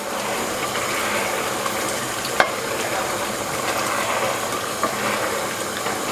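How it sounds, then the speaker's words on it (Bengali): Meat, being cooked down for tehari, fries in a pan over medium-high heat with a steady, dense sizzle throughout and a couple of sharp clicks from stirring. "মিডিয়াম হাই হিটে মাংসটাকে 5 থেকে 7 মিনিট আমি কষিয়ে নেব"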